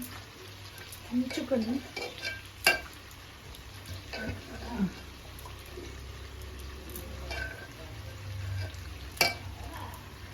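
Onions and broad beans fry in a pan with a soft, steady sizzle, broken by scraping stirs and light clinks of a utensil against the pan, fairly faint, while people talk nearby.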